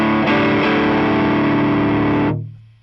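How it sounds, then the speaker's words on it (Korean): An electric guitar through an overdrive pedal with the drive turned up rings out a single gritty, buzzing chord that sustains loudly for about two seconds, then cuts off abruptly into a short fading tail, with no talking. "드라이브를 높이면은 이 지징 하는 그 오버드라이브 소리가 더 강해지는 거죠"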